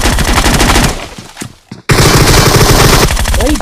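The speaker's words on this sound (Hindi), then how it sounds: "देखना मेरी ग्रोजा में कितनी गोलियां थी" Rapid bursts of Groza assault rifle fire in PUBG, loud and close, a long rattling volley that briefly stops, then resumes as another sustained burst with no talk.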